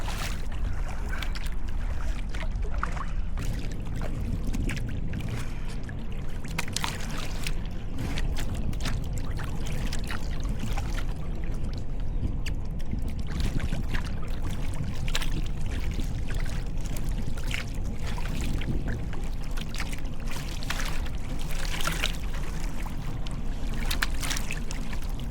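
A sea kayak paddled on the River Thames in rough water near the shore, with steady splashing and water rushing against the hull, and repeated paddle strokes dipping in a loose rhythm, close and continuous throughout.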